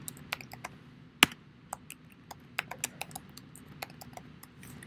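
Keys tapped on a computer keyboard in a quiet room, a sparse, uneven run of light clicks with one sharper, louder strike near the start and faint pauses between bursts.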